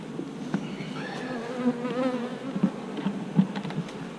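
Bees buzz close by in fluctuating, overlapping drones, individual insects rising and fading in pitch over a soft background.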